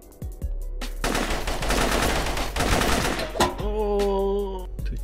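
Rapid gunfire bursts crackle during live-fire training in the isometric tactical shooter Operation Valor, close and sharp, followed by a short run of tonal electronic beeps.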